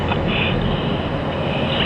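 A US Air Force Thunderbirds jet climbs after takeoff, its engine a steady, heavy roar heard from inside the aircraft, continuous and even throughout the short stretch.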